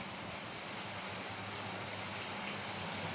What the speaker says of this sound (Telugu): బయట వాన ఈరోజు ఫుల్గా పడుతుంది